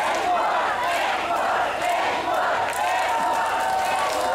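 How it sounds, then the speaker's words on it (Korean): A festival crowd at an outdoor celebration concert in Uiryeong cheers and shouts continuously and loudly, a dense roar of voices with some clapping mixed in, holding steady throughout. "마지막에 박수 함성이 좀 적어서 다시 한번 시작!"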